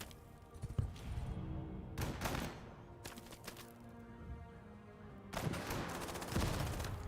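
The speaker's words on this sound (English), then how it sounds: "What the hell did they just shoot at me? That was like a bazooka." Enemy gunfire strikes a tank in the World War II tank strategy game Total Tank Generals, set in 1941: sharp, loud bursts of fire and impact thuds in separate clusters over a steady low battlefield rumble, with no talking.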